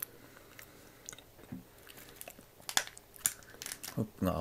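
Someone eats a Seven-Eleven matcha roll cake with whipped cream, making soft, close biting and chewing sounds with faint mouth noises scattered across a quiet background.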